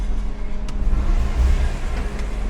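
Car transmission and engine drone during a late-night drive through a Boston parking garage: a loud, continuous low rumble with a faint whine, steady with slight swells.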